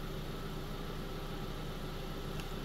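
A 2004 Nissan Sentra 1.8-liter engine with an open loop fault sits at idle, giving a steady low rumble with broadband hiss throughout, continuous and even with no talk.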